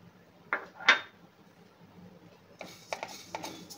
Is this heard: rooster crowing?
no